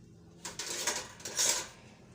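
A metal spoon is picked up in a kitchen during sweet vermicelli cooking, giving a few faint, close clinks and light taps of cutlery against dishes.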